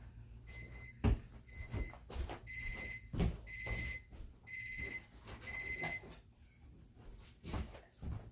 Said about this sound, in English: Oh, sorry, my alarm's going off.